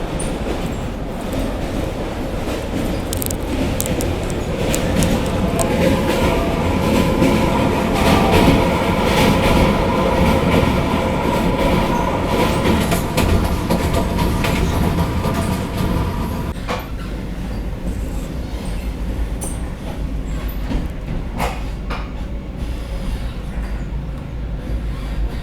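Vande Bharat express between Patna and Gorakhpur crossing the Gandak river, steady loud rolling rumble of wheels and carriage noise throughout, shifting to a slightly quieter, hollower tone partway through.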